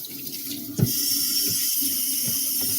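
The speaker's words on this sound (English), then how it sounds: "now let me wash my hands" Hands washed under a running kitchen tap, a steady loud rush of water hitting the sink with one brief splashy bump as the hands move into the stream.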